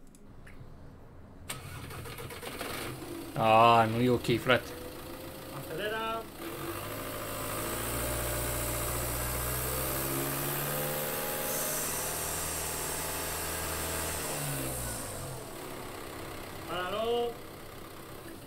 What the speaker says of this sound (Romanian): chiar sunt curios cum sună motorul